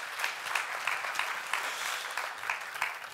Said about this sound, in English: I guess they deserve an applause, totally.